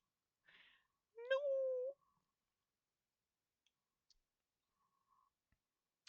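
A cartoonish cat in Romancelvania lets out a single rising-then-held meow as it falls, loud and close, preceded by a brief rustle and followed by near silence with a few faint clicks.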